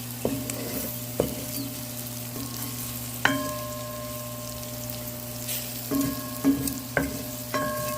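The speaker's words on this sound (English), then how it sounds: "I'll give this a stir and allow it to fry up a bit" Curry chicken with string beans stirred and frying in a pot, a steady close sizzle with a low hum beneath, broken by several sharp clanks of a spoon against the pot.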